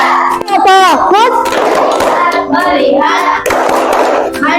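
A class of schoolchildren stands and claps in a rhythmic focus-clap routine in a classroom, with sharp hand claps spaced through loud children's voices chanting along.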